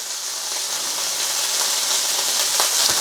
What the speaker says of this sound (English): into the very hot wok, we pop that in, let it sizzle, let it sear